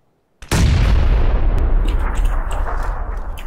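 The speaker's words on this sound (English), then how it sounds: "I have a grenade, hold on." A grenade in a video game goes off after near silence: one sudden loud explosion with a deep booming roar that rumbles on and slowly fades over three seconds.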